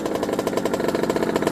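Two-stroke engine of a 1989 Kawasaki KX80 dirt bike warming up, a steady rapid buzzing putter held close and loud with a slightly uneven, knocking pulse throughout.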